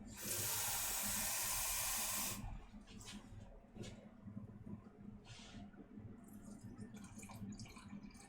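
Water pours from a tap into a pot of reduced chickpea stew with smoked paprika and za'atar, a loud steady rush for about two seconds, then stops, leaving quieter kitchen clatter and faint bumps.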